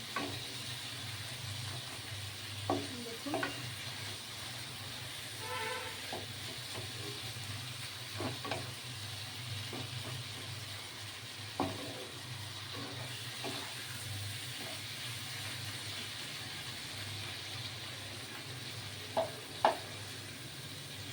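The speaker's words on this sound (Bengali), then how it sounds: "সলিড মাংস তো ভেজে ভেজে এইভাবে রান্না করতে হয়" Chicken pieces for garlic chicken stir-frying in a pan with a low, steady sizzle, broken by scattered scrapes and taps of a spatula at irregular intervals, close by with no talking.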